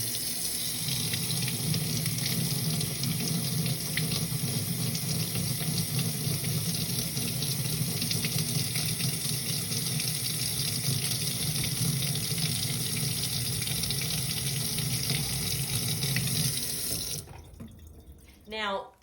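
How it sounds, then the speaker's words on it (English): Steady running water from a tap pours into a sink as labels are washed off containers, a continuous close rush that ends abruptly near the end with a brief clatter. "the video is going to show how easy it is to wash these labels off"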